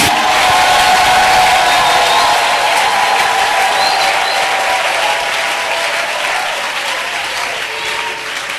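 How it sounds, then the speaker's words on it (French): A church congregation at a Sunday service applauds and cheers loudly for Jesus, sustained clapping and shouts that stay strong throughout, then ease slightly toward the end. "Si c'est Jésus, acclamez très fort pour lui."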